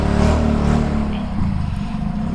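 A Suzuki Burgman 125 scooter engine fires up after a kickstart, a loud close rumble that settles into a steady idle.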